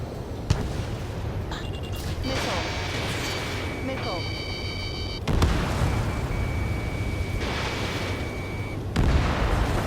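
Heavy explosions and booming blasts from SAM sites being destroyed in the combat flight game Ace Combat 7, loud and continuous under jet roar, with radio voices talking over the action.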